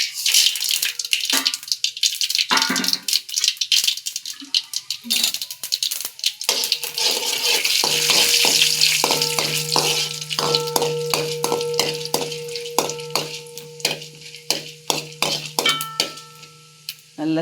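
Mustard seeds popping and spluttering in hot oil with chana dal and urad dal, a dense crackle of sharp pops over a steady sizzle, with metal clinks and rattles of the pan in the latter half.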